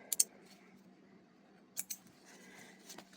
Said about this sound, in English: Trim threads.